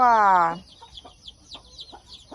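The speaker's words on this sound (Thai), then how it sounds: "มี ลูกไก่แปดตัว" A mother hen gives a loud, close cluck or call at the start, followed by faint, quick peeping from her eight chicks scattered through the rest.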